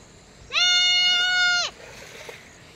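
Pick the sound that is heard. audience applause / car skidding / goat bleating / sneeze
goat bleating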